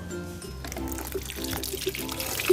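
Water poured onto a potted plant, soaking through the soil with a continuous close splashing and trickling that runs the whole time.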